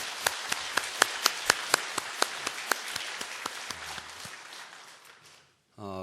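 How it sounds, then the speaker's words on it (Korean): Church congregation applauds the choir, starting with a strong, rhythmic unison beat of loud claps that gradually softens and thins out, then stops before a voice starts speaking. "우리 찬양대 격려의 박수 한번 힘차게 보내주세요"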